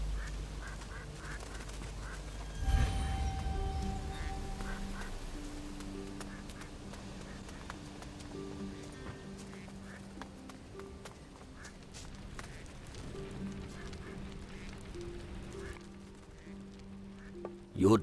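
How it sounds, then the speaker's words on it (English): Ducks quack in the video game Risen 3 amid scattered footsteps and faint in-game music tones, the calls intermittent and moderately distant, with a louder thump near the start. "Get away from all the ducks."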